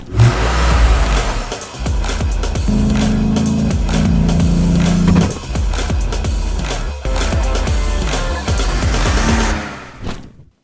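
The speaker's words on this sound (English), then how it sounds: "Opel Speedster, Lotus made 2-liter engine, turbocharged, 200 horsepower" A turbocharged Opel Speedster with a Lotus-built 2-liter, 200-horsepower engine accelerates hard, loud rising revs cut by quick gear shifts and turbo flutter, with a sharp throttle lift near the end.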